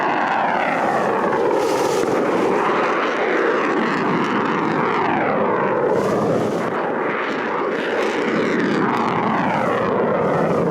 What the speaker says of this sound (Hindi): रूस अपने सबमरीन से कैलिबर मिसाइल दाग रहा है यूक्रेन पर।